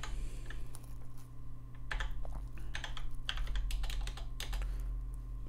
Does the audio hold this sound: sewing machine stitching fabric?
no